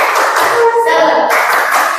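A classroom of pupils does a rhythmic spirit clap, loud close hand claps in a patterned burst with children's voices chanting along.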